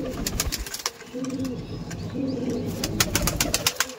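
Pigeons coo repeatedly in a pigeon loft, with a low rolling murmur of several birds close by, punctuated by occasional wing flaps and light scratchy knocks.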